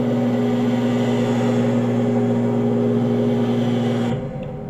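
Bus engine in the video game Bus Simulator Bangladesh, a Hyundai coach of Ena Transport driving fast on the Dhaka to Sunamganj route: a steady, loud droning hum held at constant pitch, cutting out abruptly near the end.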